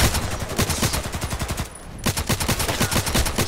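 Rapid bursts of RFB rifle fire in the Contract Wars shooter game, loud and close, with sharp evenly spaced shots, a short pause midway, then another sustained burst.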